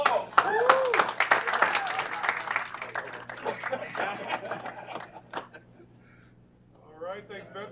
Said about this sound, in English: Let's give the veterans a round of applause.